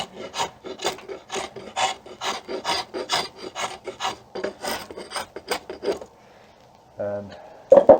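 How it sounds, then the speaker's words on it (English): A rasp files the corners of a wooden self bow, giving repeated rhythmic strokes for about six seconds, close and crisp, then a pause and a few brief knocks. "start working them down with the rasp a little bit"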